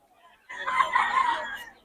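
A lemon sweater bloodline gamefowl rooster lets out a single loud, close crow after a brief quiet start, the call holding steady for over a second with a hoarse, clucking edge.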